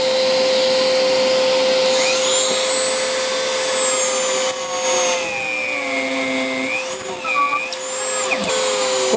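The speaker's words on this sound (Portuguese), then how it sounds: "sempre que você for furar uma madeira, você não vai de uma vez, não" An Einhell power drill boring into wood, a loud steady high-pitched motor whine running throughout, with the pitch shifting and dipping as the bit is pushed in and eased back out.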